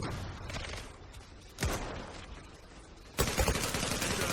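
Gunfire and a thrown grenade in the online shooter Zula, with sharp bursts of shots over a noisy battle background. A loud crack comes near the middle, and a heavier burst, likely the grenade blast, follows shortly after.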